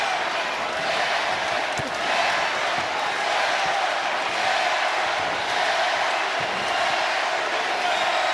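Boxing arena crowd in Toledo, Ohio, a dense sustained roar of cheering and whoops that swells and stays loud for the whole stretch, with no clear speech above it.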